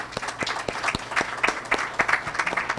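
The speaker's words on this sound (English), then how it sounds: "Give them a round of applause." Applause for a student at a technical college ceremony: a small crowd's scattered, uneven hand claps rattle along steadily for a few seconds, moderately loud and without voices.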